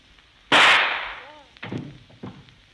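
A single sharp gunshot in an old radio drama bursts loudly and fades, then a few softer thuds and scuffles follow.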